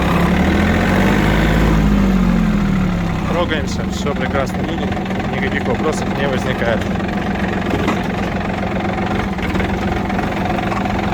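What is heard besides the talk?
Yanmar F-200 mini tractor engine running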